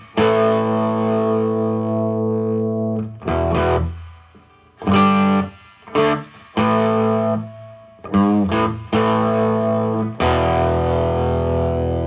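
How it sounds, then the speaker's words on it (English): An electric guitar played through a Vox Pathfinder 15R amp's onboard distortion with its stock speaker, giving loud sustained overdriven chords and short choppy stabs separated by brief gaps. "We're just going to use the onboard distortion and my volume knob."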